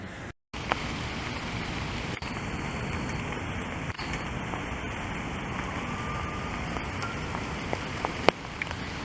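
Steady evening rain in Montreal pattering on surfaces as a continuous hiss, with occasional sharp drips and clicks standing out nearby.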